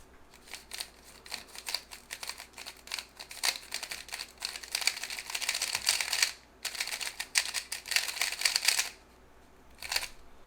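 YanCheng Yan3 speed cube fresh out of the box being turned rapidly, a close, dense run of light scratchy clicks and rattles in quick bursts with short pauses, fairly quiet and with no voices.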